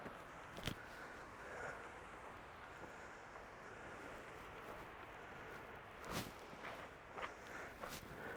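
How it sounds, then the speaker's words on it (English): Footsteps in heavy biking boots crunch across a storm-strewn beach on the Yorkshire coast, a few scattered heavier steps standing out from a steady bed of wind buffeting the microphone and distant surf. "Struggling to walk in this with my biking boots on."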